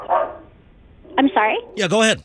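A dog barks and yips in the background of a remote conversation, with a few short, fairly loud barks arriving in bursts between and over a person's speech.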